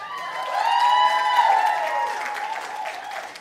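A telethon audience applauding and cheering, a steady wash of clapping and crowd noise that swells and then eases over a few seconds, with no talk over it.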